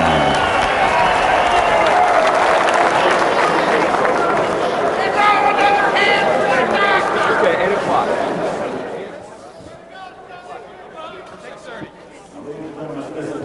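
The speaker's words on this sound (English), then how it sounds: "And a round of applause for Rick Sullivan from Schuylerville, New York." An arena crowd applauds a heavyweight boxer after his introduction, loud sustained clapping and cheering that fades after about nine seconds, leaving quieter crowd murmur.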